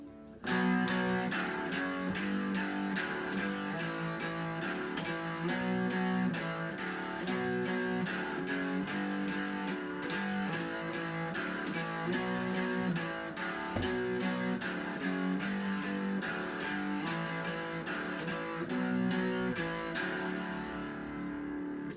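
An electric guitar plays the intro phrase at a slow, even tempo, with repeated picked notes in a steady rhythm, clear and close with no talking.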